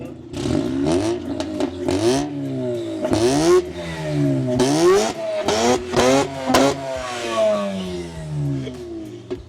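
A Mazda RX-8 rotary engine revs hard and close, with repeated rising and falling sweeps of pitch as the throttle is blipped again and again. The loud, buzzy whine has a little clatter between revs.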